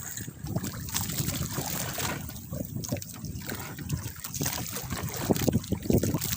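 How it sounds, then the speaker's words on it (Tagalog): Small fishing boat out at sea on clear water, with a steady low rumble of water and wind and scattered splashes and trickles against the hull throughout, fairly close, no talk. "Dito na kami sa laot ni Poging Boboy."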